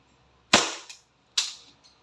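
A WE Hi-Capa T-Rex airsoft pistol fires two sharp, close shots about a second apart during a chronograph test, each a crisp crack with a short decay.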